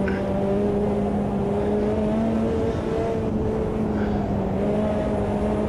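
A racing car engine drones in the Automobilista 2 sim racing game on a Group C mod, a loud, steady sustained tone with slight pitch shifts throughout and no talk.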